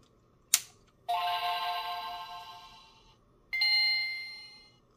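A Game Boy Advance fitted with a Power Rumble FX add-on powers on: a sharp click followed by two bright, ringing electronic chimes that fade out, close and clear, with no voices.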